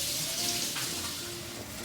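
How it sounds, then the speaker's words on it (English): A kitchen tap runs for hand washing, giving a brief, faint, steady rush of water. "now let me go wash my hands and we'll prepare the rest"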